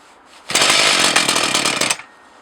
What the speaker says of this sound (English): It's a little bit low on idle.